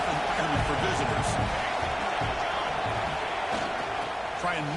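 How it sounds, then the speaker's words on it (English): Stadium crowd at a college football game roars steadily throughout, a dense wash of cheering under a commentator's voice. "Listen to the crowd energy here in the early going."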